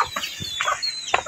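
Several sick chickens with colds cluck in short, separate bursts close by in a backyard setting, with no one talking over them.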